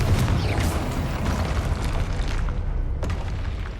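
A loud, rumbling explosion from the Confringo fire spell in Hogwarts Legacy fills the scene with deep booming roar and crackling debris, close and sustained, fading slightly near the end.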